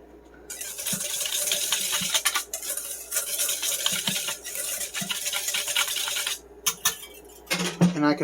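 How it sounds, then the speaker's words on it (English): A spoon stirs beef jerky marinade in a bowl, giving repeated scraping and clinking strokes in an uneven rhythm at close range, with brief pauses between bursts and a few sharper knocks toward the end. "Now I'm just going to go ahead and mix all this together."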